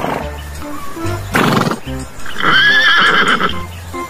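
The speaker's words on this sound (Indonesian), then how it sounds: "Ada lagi seekor kuda." A horse neighs in a loud, close whinny lasting about a second, after earlier snorts and low knocks, with clip-clop hooves and playful voices around it.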